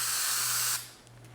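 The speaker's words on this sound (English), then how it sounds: "We'll spray this material onto the part" A short, steady burst of spray adhesive hisses close up onto a 1/100 scale Saturn V model rocket part, then cuts off, leaving a low background hum.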